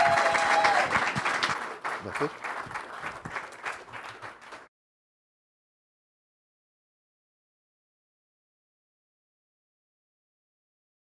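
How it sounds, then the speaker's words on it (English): Audience applause fills a city council meeting, a dense burst of clapping that starts loud and tapers off over about four seconds, with a voice speaking over it before it stops abruptly into silence. "Let's give him a round of applause."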